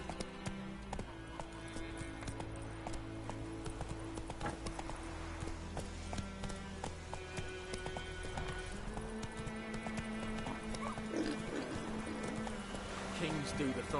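Witcher's horse Roach galloping with steady clip-clop hoofbeats and an occasional whinny under a continuous bed of music and ambience, while someone talks over it.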